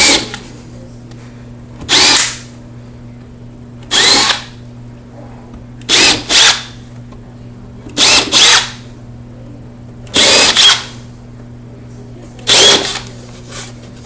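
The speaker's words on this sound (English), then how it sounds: "So he's drilling in pre-marked areas, and those are the starter holes for the screws." A power drill bores starter holes into laminate stair treads in seven short, loud bursts, some doubled, spaced about two seconds apart. A low steady hum sits underneath, and the drill is close and alone between the pauses.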